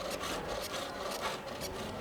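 A woodworking chisel carving into wood, giving repeated scraping, rasping strokes in a steady rhythm, close and fairly quiet, with no talk.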